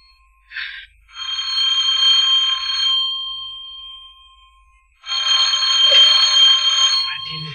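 Telephone ringing in two long electronic trilling bursts separated by a short pause, loud and close with no voices over it.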